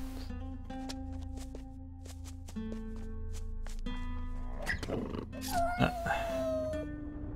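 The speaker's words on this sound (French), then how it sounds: "C'est des loups de quête." Wolves in a cave in Gothic 3 snarl and growl amid game music, with a rising burst of harsh, close growling near the end and someone talking over parts of it.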